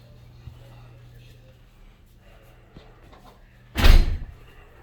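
Portable oven door being shut after cooking corned beef brisket: one loud solid thud of the door closing near the end, after quieter faint handling sounds.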